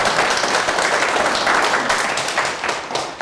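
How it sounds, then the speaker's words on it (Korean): Sustained crowd applause from an audience at a corporate visit lecture at a factory, dense and steady throughout with no talking. "자, 큰 박수 부탁드립니다."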